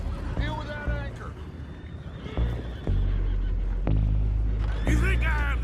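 Horses neigh and whinny in Red Dead Redemption 2 during a tense scene by a boat, with several loud, shrill calls rising over a constant low rumble and occasional heavy thuds.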